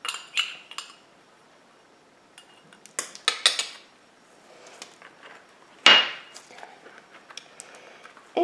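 Metal utensil clinking and scraping against a container while lye is stirred into solution for powdered goat milk soap, irregular close taps and clinks with quiet gaps and one sharper louder clatter, no voices.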